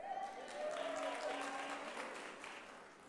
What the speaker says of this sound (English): I knew you would applaud that.